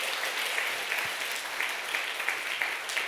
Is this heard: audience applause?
yes